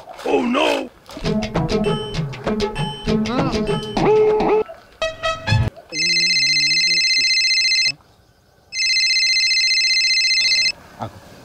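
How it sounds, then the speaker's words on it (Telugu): A phone ringtone plays in two long bursts after a stretch of music, separated by a short silence. "రితిక ఫోన్ చేస్తుంది"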